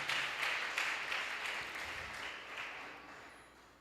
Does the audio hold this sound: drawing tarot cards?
no